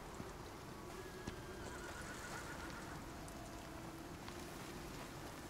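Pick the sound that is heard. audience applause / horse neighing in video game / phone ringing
horse neighing in video game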